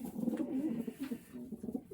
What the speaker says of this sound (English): this is a Johnny Panis pigeon